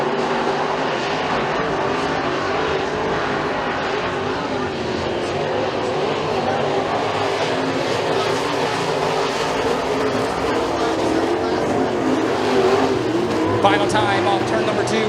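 Pro Mod race cars roar down the back straightaway of the McKean County Raceway dirt track during a heat race, a continuous loud engine drone under a commentator's voice.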